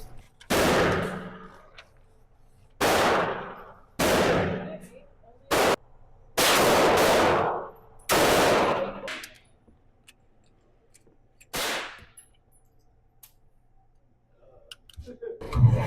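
Gunfire rings out at a shooting range: several loud, separate shots with long echoing tails, fired at irregular intervals and followed by a quieter stretch.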